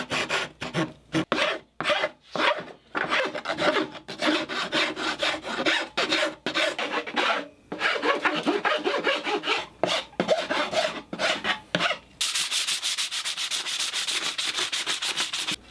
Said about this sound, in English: We filed the edges down so they're smooth and tried to eliminate most of the splinters and sharp